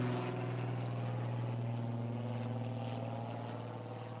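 Airplanes fly overhead at an outdoor spot, giving a steady low engine drone with a constant hum that fades slightly toward the end, distant and unbroken, with no voices.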